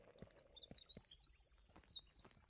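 Bird chirps in the video game Green Project: a run of bright, high, quick tweets that grows busier and louder in the second half, over soft low game ambience.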